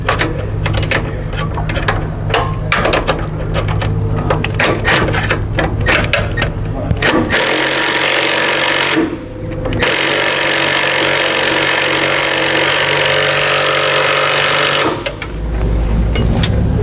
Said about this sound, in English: We'll go ahead now and repeat that process, drilling out the other hole here.